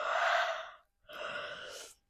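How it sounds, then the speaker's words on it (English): A person yawning deeply during a guided yoga stretch, two long breathy exhalations, loud and close, separated by a brief pause with no talk. "Take a good yawn."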